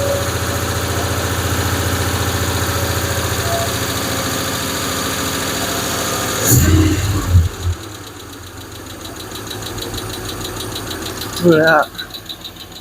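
A Hemi V8 in a Plymouth Duster idles with a steady lumpy rumble and one clanking lifter, then falls quieter after a clunk as a voice speaks briefly.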